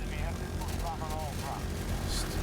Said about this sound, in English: Little bird's very good as an anti-helicopter helicopter.